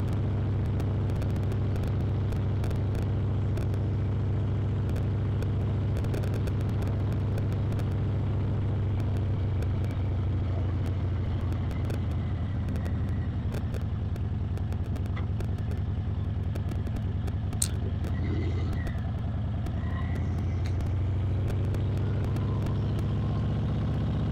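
A Harley-Davidson Breakout 117 motorcycle rides slowly, its engine a continuous, even low rumble that holds steady for the whole stretch without talking.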